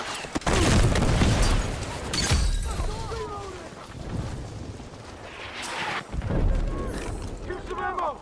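Grenade and other explosions in a battlefield shooter game: deep booms and bursts of gunfire come in waves amid battle noise, with game voices shouting between them.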